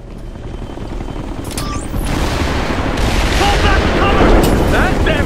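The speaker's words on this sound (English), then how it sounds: "Chopper's back." In Ghost Recon Future Soldier, a helicopter's loud rotor roar swells amid heavy explosions and bursts of gunfire, a dense, continuous battle din growing louder toward the end.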